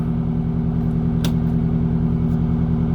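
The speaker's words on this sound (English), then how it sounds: "It's always exciting when your Detroit diesel two-stroke is not shutting itself off." A Detroit Diesel two-stroke engine keeps running after an attempted shutdown, a loud, close, steady low idle with an even pulsing rumble and one brief metallic click midway.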